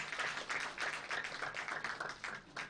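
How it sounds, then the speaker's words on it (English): An audience at an international management conference claps for a book release, a quiet, fairly distant patter of hands with irregular bursts of clapping across the whole stretch. "please give him a big round of applause for the release"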